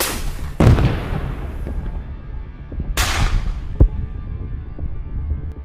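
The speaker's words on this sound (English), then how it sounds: "Immediately, they launched an artillery strike on the Russian convoy." Artillery strike on a Russian convoy: two heavy booms a few seconds apart, each a sharp blast that rolls off into a long fading rumble, with a smaller crack between them over steady background noise and no voices.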